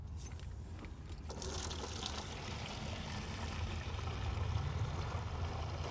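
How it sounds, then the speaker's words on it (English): A garden hose cranked on full pours into a bucket, a steady, broadband rushing of water that grows slightly fuller as it fills, with no talking. "throw your hose in there, use the stopwatch on your smartphone, get ready, and crank your water on full and start the watch"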